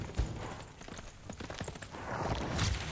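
Horse hooves clip-clop in a steady run in the strategy game Civilization VI. The hoofbeats are quick and fairly faint and sit under game ambience, with no talking.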